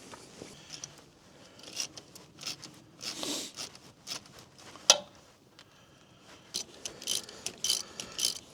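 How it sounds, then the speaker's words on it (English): A ratchet wrench loosens a nut on a John Deere sprayer in bursts of quick clicking. The close, intermittent ratcheting is separated by quiet pauses and one sharper clack midway. "we'll just go ahead and loosen this nut up"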